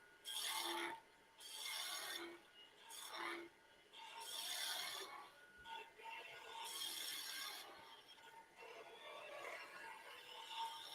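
A woodturning tool trimming a piece spinning on a lathe, a faint scraping rasp in repeated passes that rise and fall over several seconds, with no speech.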